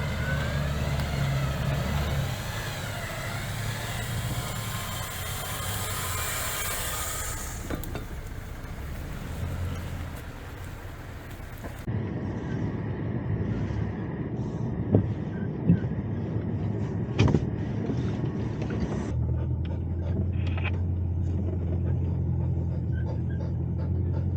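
An expedition truck grinds forward with a continuous deep engine rumble along a little-used, partly washed-out trail. Occasional knocks and clunks sound over the drone, and no one speaks.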